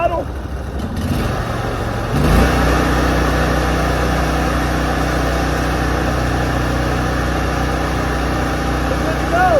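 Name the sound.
pressure washer engine throttling up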